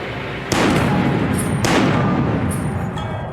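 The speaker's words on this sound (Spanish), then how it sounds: "Y mientras le escribía a Jordan, oí 2 disparos." Two sharp gunshots about a second apart, loud and close, each leaving a ringing tail, then a third fainter crack follows.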